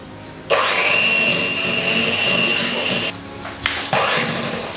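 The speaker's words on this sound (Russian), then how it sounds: "Смотрите поближе, как ваше масло взбивается и увеличивается в размерах" An electric mixer whips butter for the cream of an Ant Hill cake, its motor kicking on with a steady whining hum, cutting off briefly, then starting up again.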